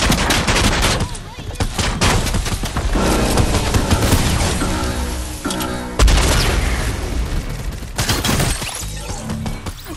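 Video game combat with dense, loud gunfire bursts and booming grenade explosions, players talking over the chaos.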